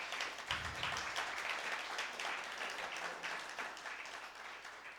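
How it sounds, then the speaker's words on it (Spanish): A church congregation applauds in a lively, uneven burst of many hands clapping, with individual sharp claps standing out over the general wash and a brief low thump near the start. "Dale un fuerte aplauso al Señor"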